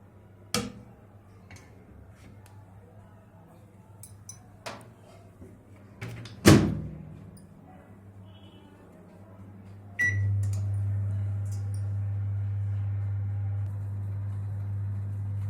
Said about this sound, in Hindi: चलिए अब इन्हें माइक्रोवेव में रिमेनिंग 10 मिनट्स कुक करते हैं।